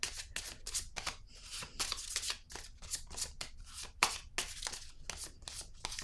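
Tarot cards being shuffled by hand, a rapid series of crisp riffling bursts close to the listener, repeating almost continuously at a quiet level.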